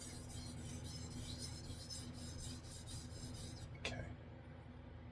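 A Japanese chef knife is drawn back and forth over a whetstone in steady, rhythmic rasping strokes, close and quiet, ending with one sharper scrape before the sound drops off.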